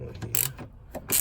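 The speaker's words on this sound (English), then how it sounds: "So what I gotta do is take these bolts loose." A ratchet clicks while loosening bolts inside a Samsung top-load washing machine with a grinding fault, a few short, close metallic ratcheting bursts.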